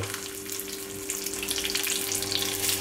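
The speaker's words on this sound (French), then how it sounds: "Alors notre huile est à température. On va pouvoir y plonger nos briques." Meat-filled brick pastries frying in hot oil make a steady bubbling sizzle that grows a little louder and busier as it goes, over a low background hum.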